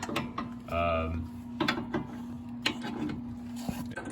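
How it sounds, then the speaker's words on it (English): A breaker bar works a stuck coilover bolt loose on a Mazda Miata, giving metallic clunks, creaks and ratcheting clicks over a steady mechanical hum, fairly close, with no talk. "that was an absolute pain in the ass to break that bolt loose"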